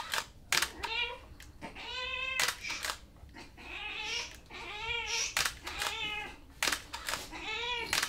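Cat meowing: a series of loud, drawn-out meows and yowls repeated every second or so, close by, with brief clicks and handling noises between them.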